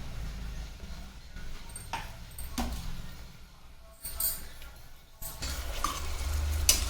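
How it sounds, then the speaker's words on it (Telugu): Two medium onions hit hot oil for a mutton and bottle gourd curry, giving a low steady sizzle with occasional spoon scrapes and brief louder bursts, with no one talking. "ఆయిల్ వేడెక్కిన తర్వాత ఉల్లిపాయలు వేసుకోవాలండి."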